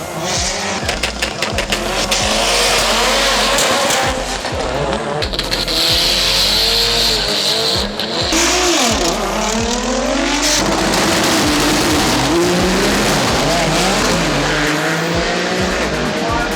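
A Nissan GTR race car at full speed during a 2016 drag shootout, its engine roaring loud and continuous, with rising and falling pitch through gear changes and sustained high-speed wind and road noise throughout.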